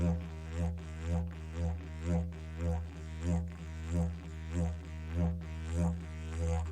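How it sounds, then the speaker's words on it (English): A didgeridoo drone with a steady low pulse, swelling rhythmically about every half second as the cheeks puff, played solo and up close. "We're going to puff out our cheeks on the didgeridoo"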